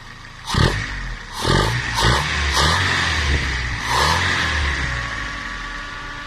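Car engine running on LPG, heard close with several rising revs in quick succession before settling into a steady idle hum.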